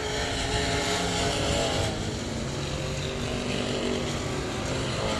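Race car engine at South Texas Speedway rising and falling as the driver goes on and off the throttle through a turn, a loud raspy snarl with fluctuating pitch and no speech.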